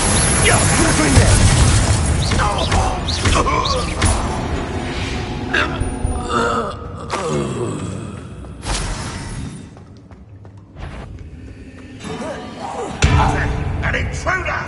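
Repeated Confringo fire spells bursting with booming impacts in the Hogwarts Legacy video game, loud thumps and blasts in quick succession under a dense battle mix, with a sharp heavy hit near the end.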